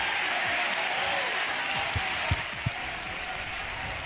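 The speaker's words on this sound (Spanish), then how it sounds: "Un aplauso fuerte para el Señor Jesucristo." Congregation at a Pentecostal church service applauds, a steady, dense roar of clapping filling the room, with a few low thumps underneath and no clear speech.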